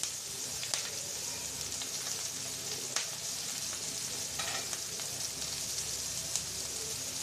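Chopped onion and green chilli fry in hot oil, a steady close crackling sizzle that runs throughout, with occasional soft stirring scrapes and no talking.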